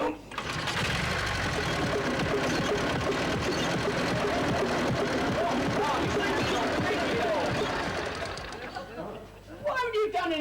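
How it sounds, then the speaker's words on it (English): A motorbike engine runs loudly and steadily with a rough, clattering tone, with voices talking over it, before the noise drops away near the end. "Blimey, the noise that engine makes"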